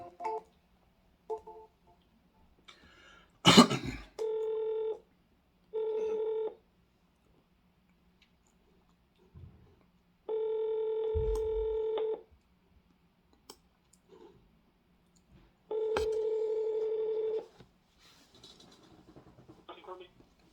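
Touch-tone dialing beeps, then several long electronic ring tones repeating with pauses, with a few clicks and faint voices in between, on a cold call to a carpet cleaning business.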